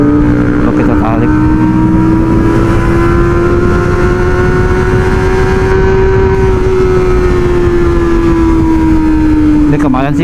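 A Kawasaki ZX25R motorcycle revs up under acceleration, its high-pitched engine tone climbing and holding steady before easing off, loud and close as if from the rider's position, with constant wind rush underneath.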